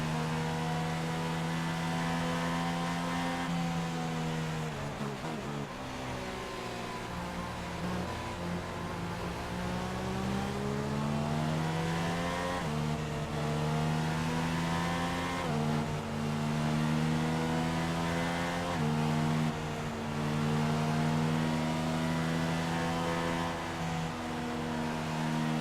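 Formula 1 race car engines in the racing game F1 2016, a continuous high-pitched whine rising and falling in pitch as the cars accelerate and shift gears, loud and unbroken with no talk.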